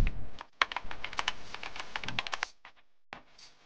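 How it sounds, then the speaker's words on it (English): Rapid clicking keystrokes on a computer keyboard, typing into the Windows search bar, come in a quick close run followed by a pause and then a few isolated taps, with no voices. "Please access the Windows search bar and type background apps."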